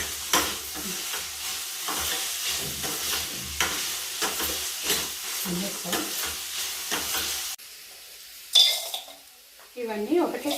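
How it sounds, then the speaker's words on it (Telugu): Food frying in a pan is stirred until golden, with a busy sizzle and repeated scrapes and clinks of the utensil that stop near the end, followed by a few scattered clatters. "వైపు గోల్డ్ కలర్ వచ్చిందాక తిప్పుతూ ఉండాలి"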